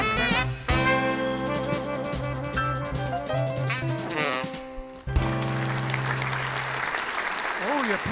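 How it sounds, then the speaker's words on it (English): Loud applause at a live show, a dense steady wash of clapping running under music and voices throughout, with a brief dip midway before the crowd noise swells again. "The applause is loud over here today."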